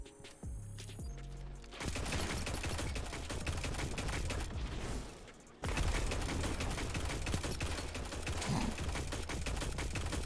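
An auto rifle fires in a video game in long rapid bursts, dense crackling volleys broken by a short pause, loud and continuous with game sounds layered in.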